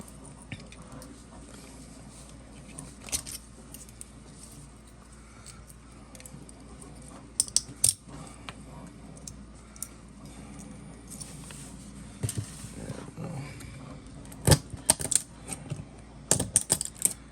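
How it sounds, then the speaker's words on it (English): A small screwdriver scrapes and prys support material off a 3D-printed vise part, giving scattered soft clicks and snaps that build into sharper cracks toward the end, close and fairly quiet. "I use a small screwdriver and pull off this extra material right here"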